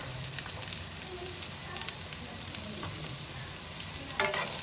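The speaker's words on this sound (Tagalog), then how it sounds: "Kapag mainit na, ilagay ang sibuyas." Onion sautéing in a little hot oil for creamy spaghetti, a steady broadband sizzle with scraping stir strokes, close and continuous throughout.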